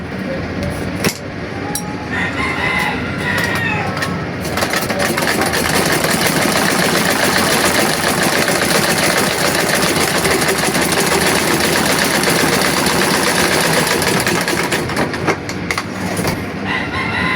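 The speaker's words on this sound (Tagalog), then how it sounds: "Susubukan ko itong itahi ng plywood." A treadle sewing machine stitching through thick plywood from an old cabinet, giving a continuous loud mechanical rattle and thumping drone, close, with a rooster crowing in the background.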